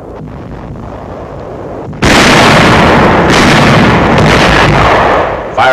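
Gunfire on enemy barges in the Rhine before Dusseldorf in 1945 wartime footage erupts after a quieter stretch into a loud, continuous crackling barrage that dominates the rest of the clip.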